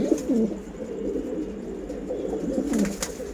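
Black fighter pigeons at a Dhaka home loft coo close up, with low rolling calls that rise and fall in overlapping bursts, over a faint steady background.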